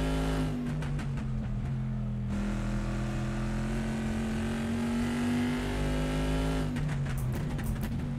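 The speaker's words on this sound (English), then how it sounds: "The original Corvette doesn't actually sound like this." A modded Corvette GT2 race car in Assetto Corsa, lapping Laguna Seca, holds a loud, steady engine drone that rises and falls through gear changes, with crackling revs near the start and end.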